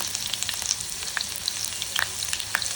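Crushed garlic and chillies fry in hot oil with a fairly soft, steady crackle and frequent small sharp pops scattered throughout.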